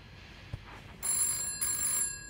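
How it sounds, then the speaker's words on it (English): A telephone bell rings close by in a quiet indoor room, the ring starting after a short pause and sounding as a bright, sustained trill that stops briefly and then resumes. "I nearly had a heart attack when I heard the phone ring."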